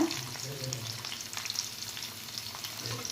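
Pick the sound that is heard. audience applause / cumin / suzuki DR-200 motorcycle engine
cumin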